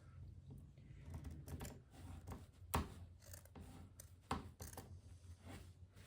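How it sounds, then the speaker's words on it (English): Scissors snip and crunch through fabric while making a belly-dance sword cover, a faint, uneven series of close cuts and handling rustles with no talking. "My scissors are not working well."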